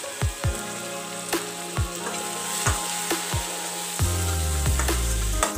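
Washed drumstick pieces dropped into a tomato and onion mixture frying in a pan set off loud, steady sizzling, with several sharp clacks of pieces landing and stirring, and a louder surge of hissing near the end.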